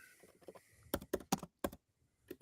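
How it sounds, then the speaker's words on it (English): Typing on a computer keyboard during a livestream about coding a Firebase app: a few soft taps, then a quick run of four or five sharp, close key clicks, and one last click after a pause. "typing on live stream is very difficult"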